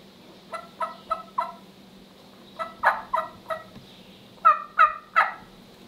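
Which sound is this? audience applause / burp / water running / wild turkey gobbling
wild turkey gobbling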